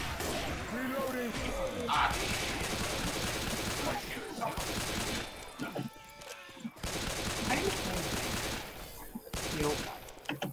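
Explosive-ammo gunfire from Left 4 Dead 2 during a carnival level, dense bursts of rapid shots filling most of the stretch, loud and close, with players talking over the shooting.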